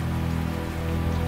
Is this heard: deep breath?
no